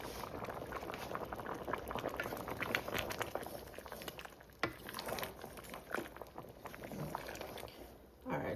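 Stew peas with pigtail, beef and chicken feet boiling in a pot, a steady close bubbling that continues throughout with a few clinks and brief knocks.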